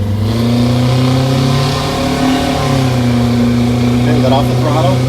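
An MCI5 bus engine revs steadily under throttle with a loud, continuous droning roar, and a voice talks over it.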